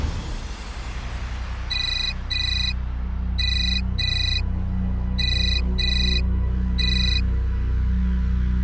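A phone ringtone chimes in repeated pairs of bright electronic beeps, four bursts spaced evenly over steady room noise, with no voices.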